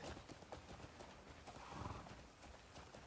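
Horse hooves clip-clop steadily on a path in the Crimson Desert game, a continuous trotting rhythm with a brief whinny-like swell in the middle, moderately close.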